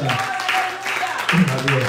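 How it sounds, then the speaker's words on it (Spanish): Churchgoers at a Spanish-language service offer a short round of applause to the Lord, a sustained patter of many hands beneath a voice speaking over it. "Vamos a dar una ofrenda de aplauso al Señor."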